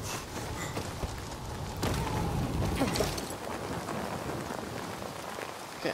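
Steady rain in the video game Dying Light 2 patters down in a dense hiss, with heavier drops and a brief surge in the middle.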